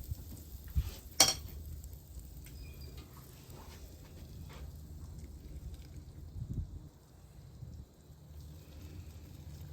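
Butter sizzling on a hot griddle for French toast waffles, a soft steady hiss under a sharp utensil clink near the start.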